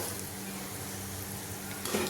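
Gundi (boondi) batter drops frying in hot oil, a soft continuous sizzle and bubbling heard close but faint, with no talking.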